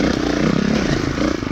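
2018 Beta Evo Factory 300 4T trials motorcycle being ridden over whoops, its single-cylinder four-stroke engine giving a loud, close, pulsing drone that rises and dips briefly, with no voices.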